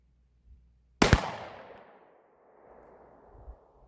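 A single sharp 9mm pistol shot from a Ruger RXM firing Remington range ammunition cracks loudly at an outdoor range, its echo trailing away slowly, with faint handling sounds before and after.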